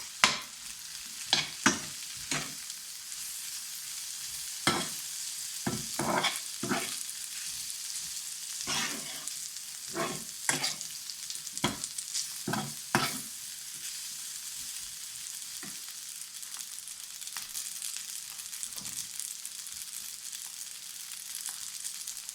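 Flour being stirred into a sizzling pan for jerk pork and pepper pasta, with repeated sharp scraping strokes over a soft, steady frying hiss, close and fairly quiet.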